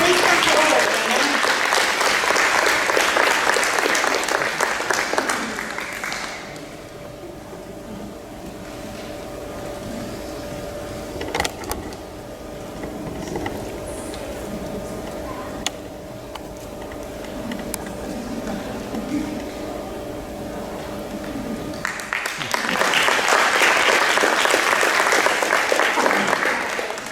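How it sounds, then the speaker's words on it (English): Audience applause at a September school board meeting, loud broadband clapping at the start that fades out by about six seconds, then a quieter stretch of room tone and murmur before a second burst of applause rises near the end. "would y'all please give Brina Sims a round of applause"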